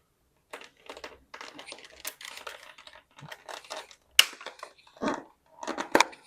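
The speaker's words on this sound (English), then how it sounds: "And we can then cut the pipe there." Cutting push-fit plastic plumbing pipe for a basin install makes a close, quiet series of short, sharp crunching snips and clicks in irregular bursts, with brief pauses between them.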